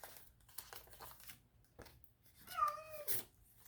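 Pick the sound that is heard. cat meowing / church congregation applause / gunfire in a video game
cat meowing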